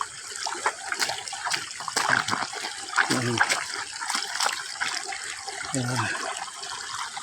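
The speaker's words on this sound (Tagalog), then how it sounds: "So may tubig na. Pwedeng hugasan ang tsinilas." Muddy slippers are rinsed in flowing water on a mountain descent, a steady close wash of running and splashing water with brief sloshes, while someone speaks over it.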